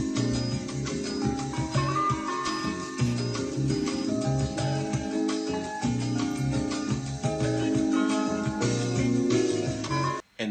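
Jazzy sample loop at 85 BPM for an East Coast hip-hop beat, with mellow chords and a steady repeating groove playing on its own at moderate volume without vocals.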